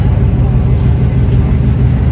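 The Ocean Jet ferry's engine sends out a steady, loud low-pitched hum and churn that holds unbroken throughout.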